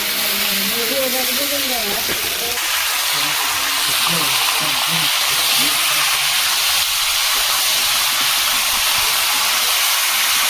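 Onions go into a hot pan while a village chicken curry is cooked, giving a loud, steady hiss and sizzle that lasts throughout. Voices can be heard faintly underneath.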